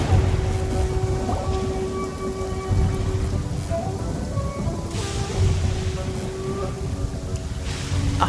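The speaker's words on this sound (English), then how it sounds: "It's raining again." Steady rain patters throughout a Genshin Impact game scene, with low rumbles of thunder rolling underneath and faint musical tones drifting over the storm.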